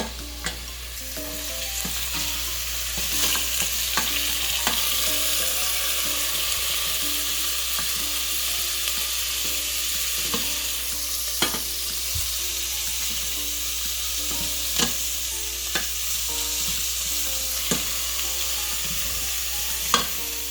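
Japanese curry stirred in a pan, continuous sizzling with repeated utensil clicks and scrapes against the pan, steady and close throughout.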